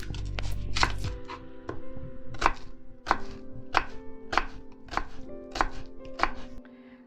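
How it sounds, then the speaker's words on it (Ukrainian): Onion being sliced into half rings with a knife on a board, a steady run of about ten crisp, close knife chops with no voices. "А зараз нарізаємо напівкружальцями цибулю"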